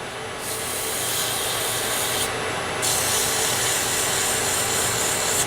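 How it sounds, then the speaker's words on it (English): Sandpaper of 180 grit rubs on a wooden pen blank spinning on a lathe. It makes a steady, close, hissing scratch that keeps on without a break and grows a little louder partway through. "And I'm going to sand, keeping the paper moving constantly."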